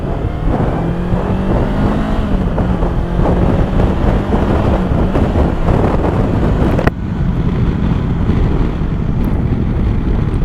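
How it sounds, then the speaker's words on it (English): A Honda CB500X motorcycle runs steadily along country roads, its engine drone heard close under heavy rushing wind noise, with a brief cut and a slightly quieter passage near the end. "we're back here on the Honda CB500X, and we're on the country roads"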